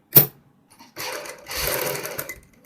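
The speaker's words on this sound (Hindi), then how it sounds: "और इस प्रकार सिलाई लगाएंगे।" A sewing machine stitches a kurti sleeve in short bursts of mechanical whirring, with a brief sharp sound first, then two longer running stretches, fairly close and without talk.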